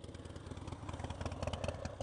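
A motorcycle engine putters and clatters as a learner rides with the clutch pulled in and almost no throttle, running unevenly as it nears a stall; the sound is steady, moderately quiet and somewhat distant.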